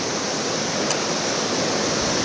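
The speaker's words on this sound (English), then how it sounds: "288 million gallons of water flow from the spring." Rushing water pours out of Big Spring in the Ozark National Scenic Riverways, a steady, dense roar with no breaks, heard alone and fairly loud throughout.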